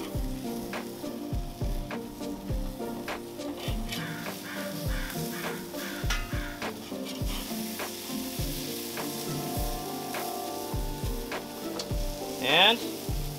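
Burgers sizzle in a pan with a steady frying crackle and repeated low knocks of a utensil, fairly quiet and close, with a crow cawing briefly near the end.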